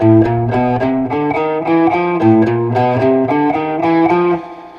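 A guitar picks a melodic single-note line with the pick held the other way, giving crisper, brighter attacks, even rhythm, ringing out and fading at the end.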